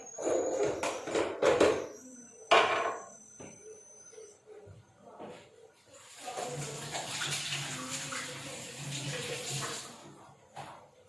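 Automatic washing machine at home filling with water: a few loud knocks and clatters give way to a steady rushing, splashing flow of water that runs on for several seconds.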